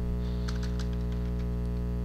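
Someone types a file name on a computer keyboard, a short burst of light key clicks over a steady background hum.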